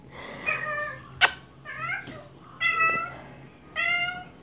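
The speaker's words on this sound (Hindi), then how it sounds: "मेरी बिल्ली मुझे इस वक्त जो है आवाज़ें लगा रही है।" A pet cat meows repeatedly in a home kitchen, four fairly close calls spaced apart, with a brief click between the first two.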